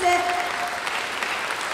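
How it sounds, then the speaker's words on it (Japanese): An audience at a Tokyo classical music festival applauds after a performance by music students, a brief, dense, steady clapping from many hands, with a faint tonal trace at the start. "今一度大きな拍手お送りくださいませ。"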